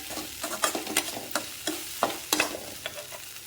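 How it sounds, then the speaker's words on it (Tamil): Okra stir-fry sautéing in a pan with salt and spice powder: a soft continuous sizzle with quick, irregular spatula scrapes and taps about every half second, close up, with no voices. "இதெல்லாம் போட்டு நல்லா கிண்டுங்க வதக்கி விடுங்க"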